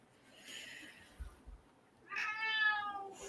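A cat meows nearby, one faint call followed by a louder, drawn-out meow, with a couple of soft thumps in between in an otherwise quiet room.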